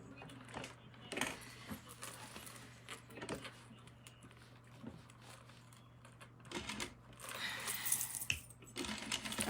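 A sewing machine stitches elastic onto a skirt waistband in quick bursts of rapid clatter separated by pauses, fairly quiet and close, with a low steady hum underneath.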